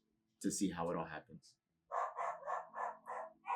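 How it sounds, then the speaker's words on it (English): A dog barks in a quick, regular series of five or six loud barks, heard after a stretch of a person speaking nearby. "So sorry about the dog barking."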